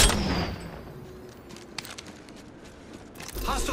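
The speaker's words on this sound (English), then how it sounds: "Enemies are shooting." Scattered gunshots from the battle royale game Apex Legends, a few sharp cracks and short bursts spread across a background of game ambience, moderately loud with a denser volley near the end.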